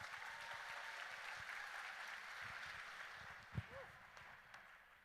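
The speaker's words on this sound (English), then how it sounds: "Let's give them a final round of applause." A faint, distant wash of audience applause at the Future City 2023 awards finals, a soft steady patter with low thumps and a brief knock, quiet and diffuse throughout.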